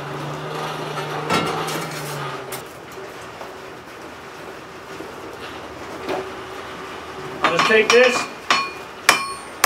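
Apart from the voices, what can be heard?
hammer blows forging a railroad spike hatchet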